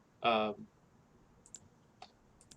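Sharp mouse clicks from the City of Gangsters strategy game: a brief voice burst at the start, then three or four faint, quick clicks spaced apart in quiet.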